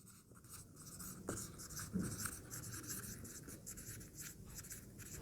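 Pen or pencil scratching steadily across paper during a biology lesson, a continuous close scribbling with short strokes and pauses, no voice over it.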